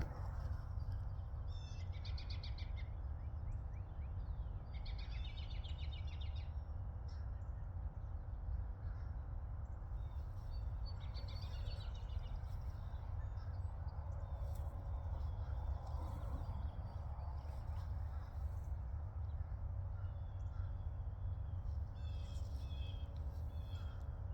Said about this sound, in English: Now those are ravens. They're not crows.